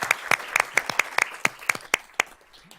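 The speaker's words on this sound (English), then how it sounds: "Board, let's give Mr. Stacy and his office a round of applause" Board of trustees meeting audience clapping in a short burst of sharp, distinct claps that thin out toward the end, close and fairly loud.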